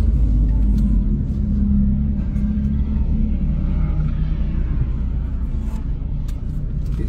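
A race car engine at Snetterton circuit idles and rumbles steadily, a loud, deep, continuous low-frequency drone heard close up from inside the car, with no clear revving.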